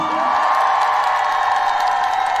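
Crowd at an outdoor autumn music festival applauding and cheering, with steady, dense clapping and scattered whoops throughout at moderate loudness.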